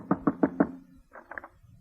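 A door is knocked on as a sound effect in a 1948 Abbott and Costello radio comedy show: four quick, evenly spaced raps up close, followed by softer, fainter rattling sounds.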